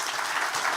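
Steady applause from a summit audience in Washington, D.C., a dense continuous wash of clapping, loud and free of speech.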